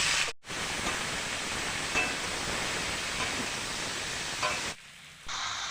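Pumpkin pieces tipped into a frying pan of potatoes and Malabar spinach stems, giving a steady, even hiss of sizzling oil with a short dropout near the start and a quieter dip near the end.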